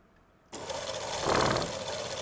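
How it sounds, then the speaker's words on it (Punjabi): A sewing machine runs a loose basting stitch along palazzo fabric, starting abruptly and whirring steadily and loudly at close range without talk. "ਐਦਾਂ ਕੱਚੀ ਸਲਾਈ ਲਗਾ ਲੈਣੀ ਹੈ"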